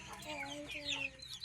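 Hens clucking close by in a steady, chattering stream of short calls, with a brief higher squawk near the middle.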